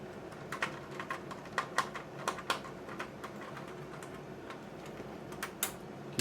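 Small screws come out of an IGT G23 slot machine in a run of faint, irregular clicks and ticks over quiet background noise.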